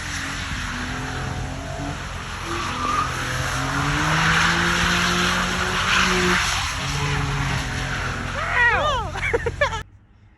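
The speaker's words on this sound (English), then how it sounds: "Doing my first donuts in the G35," An Infiniti G35, a rear-wheel-drive car, does donuts with a sustained, loud engine roar and continuous tire skidding, squealing swells rising near the end before the sound cuts off abruptly.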